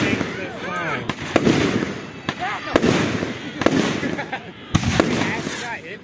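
Consumer fireworks legally classed as flashbangs go off in a string of sharp, loud cracks and bangs at irregular intervals, with several people talking and exclaiming over the blasts.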